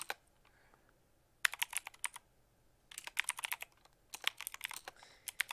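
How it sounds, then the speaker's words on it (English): Fast bursts of typing on a computer keyboard, rapid clattering keystrokes in three quick runs separated by short pauses, close and fairly quiet with no voices. "I'm gonna speed type this."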